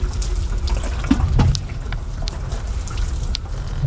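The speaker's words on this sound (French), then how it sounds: "je vais arroser les plantes qui sont difficiles à pousser" Plants watered from a hose or tap, a steady close splashing and gushing of water that runs continuously throughout with a few small thuds and drips.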